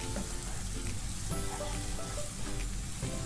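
Turmeric and cumin powder frying in hot oil in a pan, a dense, steady sizzle with faint stirring scrapes, close and continuous with no voices.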